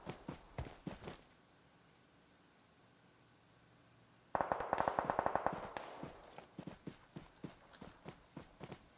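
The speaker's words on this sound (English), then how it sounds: "I hear the shots." Gunfire in the PUBG Mobile battle royale game: a few sharp, faint shot cracks at first, then after a quiet gap a rapid burst of repeated shots over a louder rushing background.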